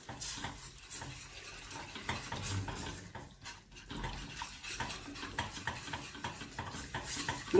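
Food in a pan, with milk being added gradually, is stirred steadily, producing continuous close scraping and swishing with faint clinks of utensil on metal and no voices.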